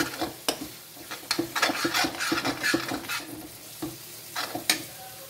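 Homemade cream (malai) sizzling in a pan on the stove while a spoon stirs it, a soft continuous fry punctuated by sharp scraping clicks of the utensil, close and fairly quiet, with no talk.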